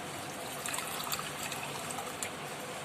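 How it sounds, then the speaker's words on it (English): Water trickles steadily into a small bowl in a kitchen, a soft continuous pour with faint splashing heard up close and alone. "I'm going to take it in a small bowl and add little water"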